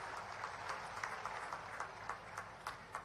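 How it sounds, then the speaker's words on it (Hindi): An audience at a public event in Dhanpuri applauds Prime Minister Narendra Modi, a faint, distant patter of clapping with rhythmic, evenly spaced claps standing out across the whole stretch. "यशस्वी प्रधानमंत्री श्रीमान नरेंद्र मोदी जी का जोरदार अभिनंदन करें ताली बजा करके"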